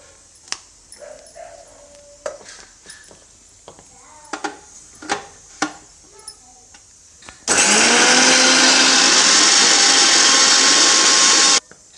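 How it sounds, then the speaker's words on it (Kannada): A few sharp clinks and knocks, then a mixer grinder grinding green chillies roars loudly for several seconds at a steady high whine before cutting off. "ಹಸಿಮೆಣ್ಸಿನ್ಕಾಯಿಯನ್ನು ರುಬ್ಕೊಳ್ತೀನಿ"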